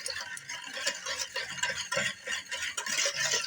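Rusk dough ingredients are mixed together in a bowl, giving rhythmic scraping and tapping strokes of a spoon, close and fairly loud, with no talk.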